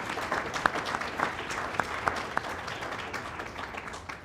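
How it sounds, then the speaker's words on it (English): At an annual meeting and awards celebration, the audience applauds the chamber staff with a dense, even wash of clapping, a few louder individual claps standing out near the front. "Let's give them a round of applause again."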